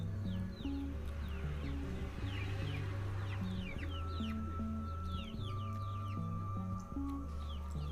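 A village hen clucks repeatedly in short, close calls over a steady low tonal drone that runs throughout.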